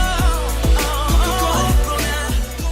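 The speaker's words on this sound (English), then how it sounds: "what you're hearing is actually a public service announcement, or PSA, by Vietnam's Ministry of Health in the form of the very catchy 2017 song" A catchy pop song plays as a Vietnamese Ministry of Health hand-washing public service announcement, with a punchy beat of regular thumping kicks under layered melodic vocals and synths, loud and dense.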